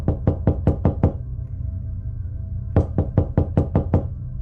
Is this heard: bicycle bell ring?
no